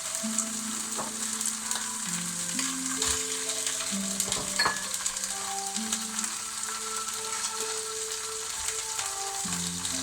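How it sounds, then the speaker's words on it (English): Vegetables sizzle steadily in a hot pan for a vegetable stir fry, a continuous bright frying hiss with faint stirring clatter and tonal music playing throughout, no voices. "I'm doing a vegetable stir fry"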